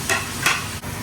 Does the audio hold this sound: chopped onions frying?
yes